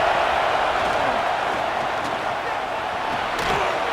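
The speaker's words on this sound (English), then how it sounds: "listen to this crowd noise. This stadium is vibrating." A packed stadium crowd roars in a college football video game, a thick, continuous wall of cheering that holds steady and close throughout, with a commentator's voice mixed in.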